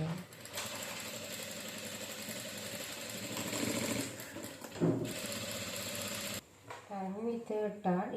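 A sewing machine runs steadily while stitching a saree blouse, a continuous close whirring hum that stops briefly near the end before someone speaks over it.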